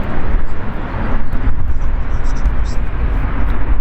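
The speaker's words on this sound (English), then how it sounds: "It is so nice to see this 777-300 taxiing out of Stansted Airport." An Emirates Boeing 777-300 taxis at Stansted Airport, its jet engines giving a continuous low rumble and broadband roar at some distance, with wind buffeting and people talking over it.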